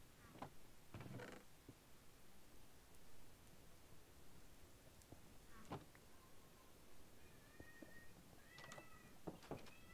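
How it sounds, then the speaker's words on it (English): A cat in Minecraft meows faintly a couple of times near the end, over a quiet hiss with scattered soft clicks and rustles and no talking. "What are you meowing at?"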